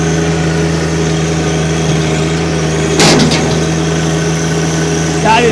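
A 2022 John Deere 1025R compact tractor engine runs at a steady idle with a low droning hum, one brief clatter partway through, and someone speaking over it.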